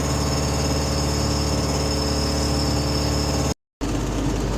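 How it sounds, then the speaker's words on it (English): The engine of a DG505MB self-launching glider runs loud and steady with an even droning hum, cutting out for a brief moment before resuming at the same level. "So as I'm letting my engine cool off, I'll do an ignition test."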